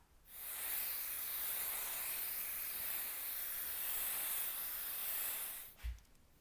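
A steady, close hiss of aerosol basting spray on quilt batting runs for about five seconds, then stops with a soft bump. No one speaks.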